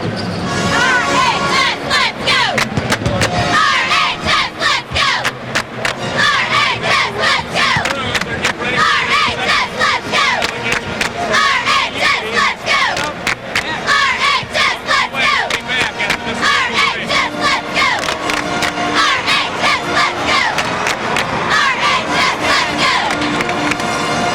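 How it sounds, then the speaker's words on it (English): A packed gym crowd at a 2002 Elite Eight high school basketball game between Robinson and Tolono Unity cheers and chants loudly and continuously, with rhythmic clapping and stomping throughout. "Give me a big cheer here now and get Robinson going for this game against"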